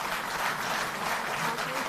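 An auditorium audience at a Delhi government event claps loudly and steadily, a dense, continuous wash of applause with no breaks across the short stretch.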